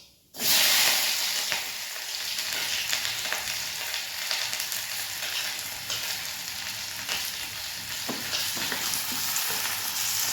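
Onions fry in hot oil for an Odia-style boiled egg curry, giving a loud, steady, close sizzle with crackling spits throughout and no talking.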